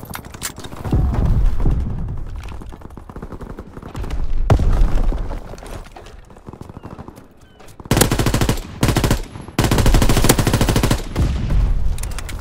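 Submachine gun fire in Call of Duty on the Gustav Canyon map: rapid automatic bursts, loud and close, in several long strings separated by short pauses.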